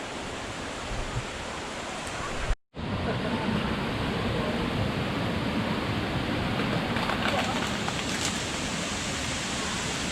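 Waterfall at Kemensah roaring as a steady, loud broadband rush of falling water, close and continuous, with one brief dropout near the start.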